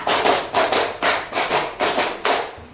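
Students in a classroom clap together in a steady counted pattern, giving about six crisp, evenly spaced bursts of group clapping at close range, loud and with no voices over them.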